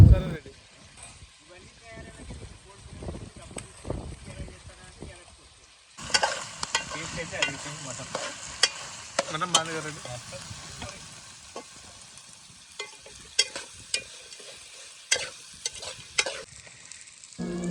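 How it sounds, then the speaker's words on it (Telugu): Goat head curry frying in a pan while being stirred, with steady sizzling and scraping strokes that grow louder and busier after the first few seconds, close up. "కూర కలర్ వచ్చిన దాకా కలుపుతూ ఉండాలి"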